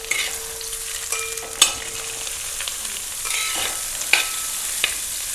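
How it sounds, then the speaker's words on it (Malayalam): Sliced onion frying with green chilies in a pan for a Kerala egg thoran, sizzling steadily while a utensil stirs it with a few sharp scraping clacks, close and moderately loud with no talking. "സബോള ഒന്ന് വാടക്കാം"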